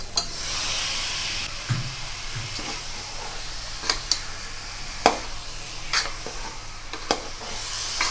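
Masala fries with a steady hiss and sizzle for chicken kulambu, while a spoon stirs and scrapes the pan with several sharp clinks.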